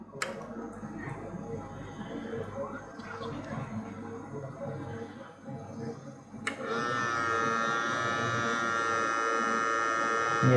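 An isothermal titration calorimeter's motorized plunger hums and whirs in a lab, sucking solution from a pipette and mixing it, a steady mechanical buzz that jumps to a louder, higher-pitched drone partway through, with no voices.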